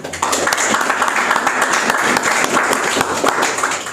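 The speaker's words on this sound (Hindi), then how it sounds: "तो क्यों ना हम परमेश्वर का आदर करते, उसके लिए जोरदार ताली बजाते हैं।" Church congregation clapping loudly together during a Sunday evening service, dense steady applause close by lasting several seconds.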